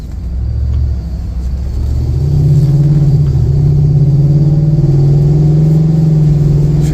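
A 2024 Ford Super Duty F-350 DRW XL 2WD pickup accelerates on a test drive. Its engine gives a loud, steady low rumble heard from inside the cab, rising slightly in pitch as the truck picks up speed.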